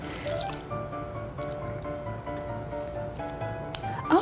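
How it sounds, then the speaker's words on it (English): Orange flower water pours into cream in a kitchen, making soft wet drips and a light trickle. The pour is faint under steady background tones, ending in a brief sharper splash. "Time to add more orange flower water."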